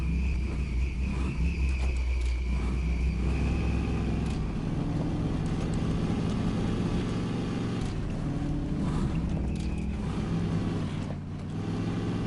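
A modded Scout truck in the SnowRunner video game idles and drives on a Yukon region trail, its engine a continuous low drone, moderately loud, joined by faint higher chirping tones.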